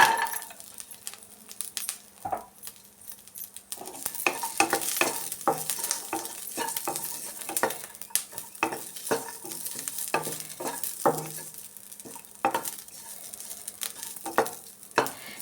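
Repeated scraping and stirring in a pan with a light sizzle underneath as peanuts, garlic and tamarind roast, crisp clinks of ingredients knocking about at an irregular, steady pace.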